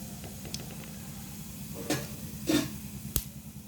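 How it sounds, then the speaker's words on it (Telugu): Mustard seeds splutter in hot oil while tempering for a potato fry: a low, constant sizzle broken by a few distinct sharp pops. "చిటపటలాడుతున్నాయి ఆవాలు"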